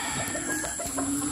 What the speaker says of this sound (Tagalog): Dala ko manok ah.